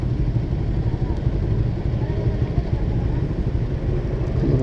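A Suzuki Raider FI 150 motorcycle on a ride produces a constant, dense roar of engine and rushing wind, unbroken and close throughout.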